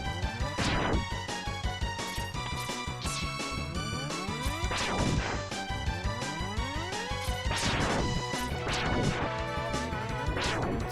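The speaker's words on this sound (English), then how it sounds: "Can I break through that glass?" Glass shatters repeatedly in the SNES game Mega Max X, with sharp bright crashes at regular intervals over loud, steady game music.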